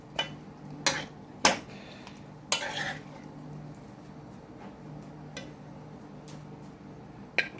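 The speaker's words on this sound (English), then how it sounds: "You gotta mix your gravy up." A spoon knocks and scrapes against a pot while gravy is stirred, giving several sharp clinks early on and then sparse, quieter taps over a low steady hum, up close with no voices.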